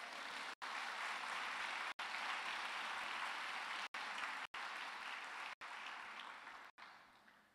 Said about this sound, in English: Let's have a big, hearty clap of praise.